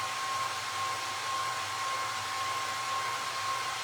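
A hair dryer blowing on a primitive Easter can craft, a steady, loud, unbroken rush of air with a constant motor whine, running alone without talk.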